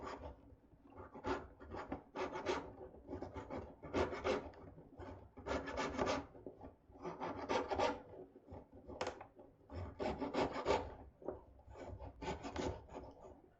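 Small wood piece being cut by hand with a coping saw, close and clear, in rhythmic bursts of rasping strokes with brief pauses between them.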